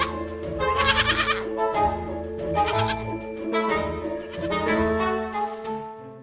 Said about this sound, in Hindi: नंदू बकरी का सारा दूध निकाल लेता है।